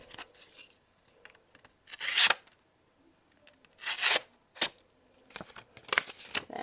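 A Cold Steel Recon 1 folding knife slicing a paper note card: several short, close rasping and scraping strokes at irregular intervals, separated by quiet pauses, with no talking.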